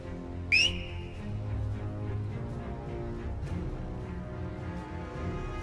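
A character in an Iron Harvest game cinematic gives one short, sharp rising whistle near the start, followed by a low orchestral score with no talking.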